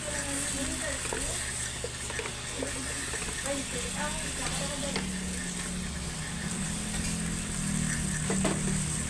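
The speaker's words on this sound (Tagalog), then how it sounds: "Pa-brown lang natin yung chicken natin" Sliced chicken breast browns in a pan, giving a continuous close sizzle with stirring scrapes, while a voice talks over it at times.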